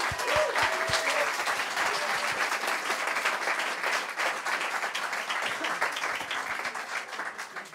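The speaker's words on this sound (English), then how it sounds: "So I'd like to give Monica one big round of applause." Audience at a Startup Weekend event in Copenhagen gives a big round of applause, a dense sustained burst of clapping with a few sharp close claps at the start, steady throughout.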